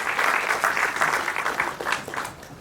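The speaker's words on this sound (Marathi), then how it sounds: "एकदा जोरदार टाळ्या त्यांच्यासाठी वाजवा." Loud, dense applause from a crowd at a Marathi film trailer launch, sustained and fairly close, tapering slightly toward the end.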